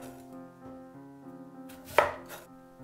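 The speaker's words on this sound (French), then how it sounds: "Je coupe la patate douce en tranches d'un demi-centimètre d'épaisseur." A knife cuts through sweet potato into half-centimetre slices, one firm chopping thud against a board, heard over steady background music.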